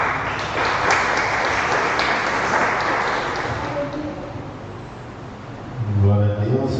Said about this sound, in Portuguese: As palmas de Jesus